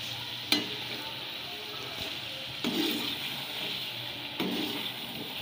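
Chicken and tomatoes fry on a high flame in a karahi, the tomatoes having released plenty of liquid: a steady close sizzle broken by three sharp stirring scrapes or splatters spaced a couple of seconds apart.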